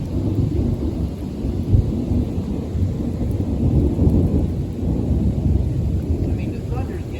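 Distant thunder rolling through a summer thunderstorm with rain falling, a low continuous rumble that swells and fades, with voices talking faintly over it.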